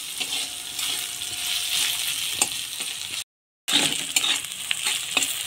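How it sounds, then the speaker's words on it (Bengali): Dried Bombay duck (lote shutki) fries in oil with a little onion and salt, giving a steady, close crackling sizzle with occasional stirring clicks and a short break partway through. "আমার লোটে শুটকি ভাজা হয়ে গিয়েছে,"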